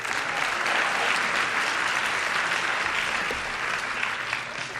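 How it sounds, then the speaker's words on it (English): Steady, dense applause from a large audience at a high school Black History Month celebration, sustained at even strength for several seconds and easing slightly near the end. "Can we give him another round of applause?"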